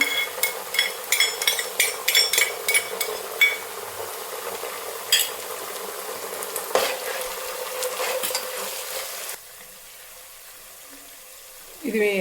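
Baby corn fried rice sizzles in a pan while a spoon scrapes and stirs it in quick bursts, then the frying settles to a quieter steady crackle before a final clatter.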